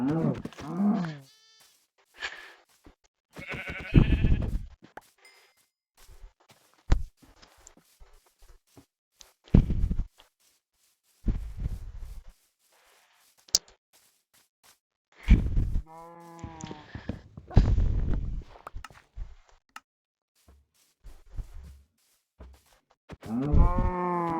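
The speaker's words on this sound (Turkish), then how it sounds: "Aha koyun çıktı." A sheep bleats in the Minecraft video game, with several short wavering bleats spread between quiet gaps and clicks of gameplay.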